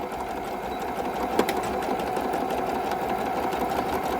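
Sewing machine stitching a quarter-inch seam on a zipper pouch, a continuous fast mechanical whirr with rapid needle clatter, close and steady without pause, no talking.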